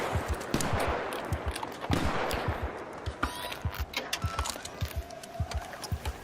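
Gunfire in the video game Arc Raiders: rapid bursts of sharp shots in uneven clusters, fairly loud and close, with little talk.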